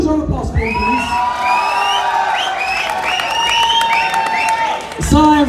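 Audience applause mixed with loud cheering, whoops and shouts from a large crowd at a college graduation day ceremony in an auditorium, sustained throughout with voices rising above the clapping.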